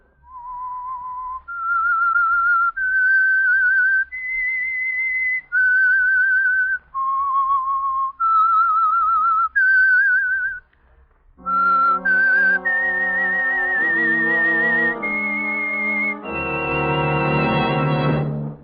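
A clear whistled melody, the theme signal of the radio show The Whistler, one note at a time, rises and falls over several seconds, then music joins in with a fuller orchestral swell.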